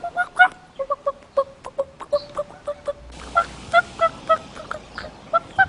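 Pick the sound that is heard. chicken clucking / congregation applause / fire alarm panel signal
chicken clucking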